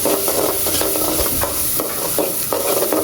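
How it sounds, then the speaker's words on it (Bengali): Spices stirred and fried in oil in a pan for chicken curry, a loud continuous sizzle broken by repeated scraping strokes of the spoon, close up and with no voices. "মশলাগুলো দিয়ে দিলাম, এখন ভালো করে নেড়ে দিতে হবে।"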